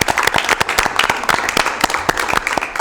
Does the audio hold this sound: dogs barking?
no